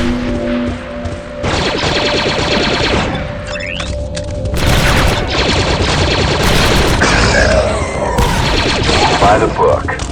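Rapid blaster gunfire in the Star Wars: Republic Commando video game, dense volleys and booms running nearly continuously and loud throughout, with brief radio-style squad voices mixed in.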